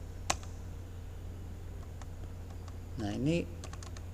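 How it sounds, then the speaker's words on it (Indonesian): Commands are typed on a computer keyboard at a terminal in sparse, light keystrokes with gaps between them, close and steady, while someone briefly speaks. "Ini kita bisa kok ngetik perintah macam-macam di sini nih"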